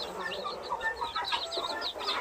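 Broody hens lead a large brood of about eighty chicks, with overlapping soft clucks and a constant stream of high peeping from the chicks, fairly close and without talk.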